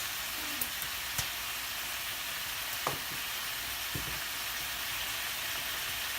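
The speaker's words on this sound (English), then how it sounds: "Next, go ahead and cook the bacon." Bacon frying in a pan, a steady broadband sizzle running throughout with a few soft clicks and taps of a utensil.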